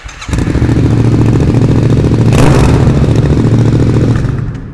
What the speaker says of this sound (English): Really unleashes that thumpy, throaty note from the flat plane crank engine.